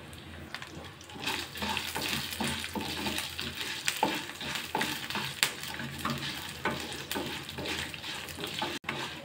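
Eight garlic cloves and six cut dried red chillies fry gently in oil over a low flame, giving a steady soft sizzle with occasional stirring clinks and scrapes, close and fairly quiet, with no talking.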